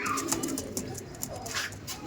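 A newly settled pair of pure Andhra pigeons gives low rolling coos near at hand over about two seconds, with a voice faintly present.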